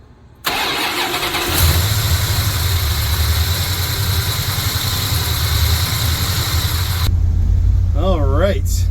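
A truck fitted with a swapped-in Magnum 360 V8 cranks and fires up, then settles into a loud, steady idle close by, with a voice heard near the end.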